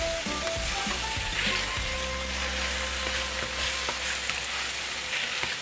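Beaten egg poured over eggplant fries and is stirred in a hot pan, giving a dense, even sizzle with a few soft clinks and scrapes early on. No one speaks.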